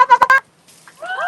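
A human voice imitates a turkey's gobble in a short, rapid warbling burst, followed by a brief pause and a softer vocal sound.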